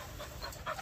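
A Malinois (Belgian shepherd) puppy pants in short, soft breaths close by, the rhythm steady and fairly faint with no talking.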